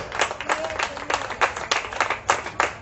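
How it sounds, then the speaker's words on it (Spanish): Rhythmic clapping from a church congregation answers a preacher's call to applaud the Lord, with distinct, evenly spaced beats and a faint voice briefly in the background. "Dale un aplauso al Señor, hermano, si tú lo crees"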